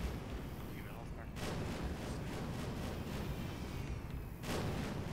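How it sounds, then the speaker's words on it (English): Fireworks boom and crackle in a dense, continuous barrage at the Dark Carnival concert finale in Left 4 Dead 2, with steady rumbling blasts filling the whole stretch. "All these fireworks do not seem safe."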